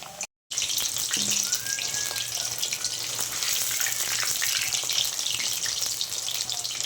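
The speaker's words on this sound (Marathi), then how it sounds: "आता आपण हे तळून घेऊया। तेल पण छान तापलंय, छान क्रिस्पी होईपर्यंत तळून घ्यायचे।" Coated paneer deep-frying in hot oil, a steady dense sizzle and crackle that holds alone at a moderate level throughout, broken only by a brief cut near the start.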